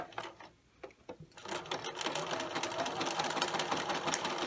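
A sewing machine runs a zigzag stitch along the long edges of a rectangular fabric piece for a Valentine treat bag, its motor whirring steadily and close after a brief start-and-stop at the beginning.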